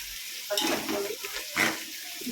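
Chopped onions hit hot oil in a pan while cooking veg biryani, giving two bursts of loud sizzling and frying with stirring, then a steady softer crackle.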